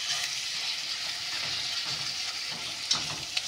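Minced meat frying in a pan: a steady, dense sizzle with a soft hiss throughout, plus a couple of faint clicks from stirring near the end.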